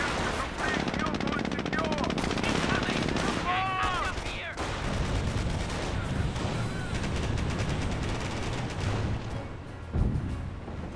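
Dense rattling gunfire from a Jeep in Company of Heroes, a sustained loud burst of automatic shots mixed with explosions and battle din, with a voice over it briefly.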